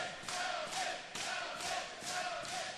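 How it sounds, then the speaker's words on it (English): A wrestling crowd at a Ring of Honor event roars and chants for Michael Elgin, a loud, sustained arena din that surges in repeated rhythmic waves. "The crowd screaming out for Elgin here"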